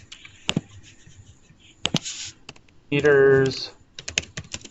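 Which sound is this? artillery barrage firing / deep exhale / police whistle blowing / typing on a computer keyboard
typing on a computer keyboard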